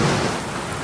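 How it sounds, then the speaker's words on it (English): Heavy rain from a thunderstorm pours down steadily, a dense, loud wash of noise with a low rumble underneath, continuous and without any voices. "do a sound test to see if you can even hear me over the rain"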